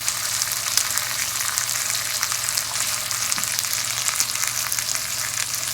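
A T-bone steak fries in a pan with a steady, dense sizzle and crackle, close and continuous with no talk over it.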